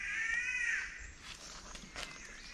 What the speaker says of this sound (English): We call them mum birds.